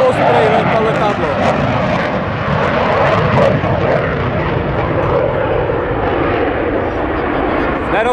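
Powerful fixed-wing aircraft roaring past at the NATO Days air show in Mošnov, 2014, a loud sustained engine rumble that swells slightly and holds for several seconds.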